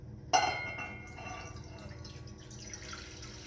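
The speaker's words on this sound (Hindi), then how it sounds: "तो हर्बल टी के लिए मैं यहाँ पर लूँगी 1 बड़ा कप पानी।" Water is poured into a cup to make herbal tea, starting with a sudden splash and settling into a steady, fairly quiet trickle of running water in a kitchen.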